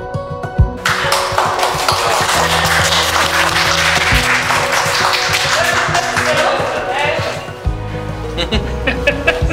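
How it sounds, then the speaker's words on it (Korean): Loud, sustained audience applause with dense clapping and a little laughter, carrying on for several seconds before tapering near the end, with music or background tones underneath. "자, 박수."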